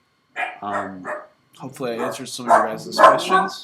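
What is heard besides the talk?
dog barking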